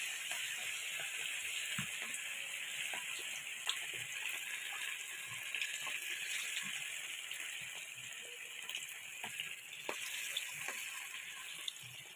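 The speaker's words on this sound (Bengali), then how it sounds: "চিকেনগুলো ভেজে নেব।" Chicken pieces fry in hot white oil in a wok, giving a steady, moderately faint bubbling sizzle with a few small pops and crackles throughout and no voices.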